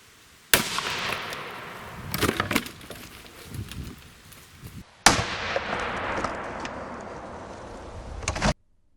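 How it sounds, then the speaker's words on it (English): Two sharp, loud rifle shots roughly four seconds apart, each a hard broadband crack with a ringing decay, from .223 Remington 62gr Speer Gold Dot loads fired into ballistic gel outdoors; a few fainter knocks and rustles fall between them. "for our ballistic gel test, I shot a total of 3 shots and recovered 2"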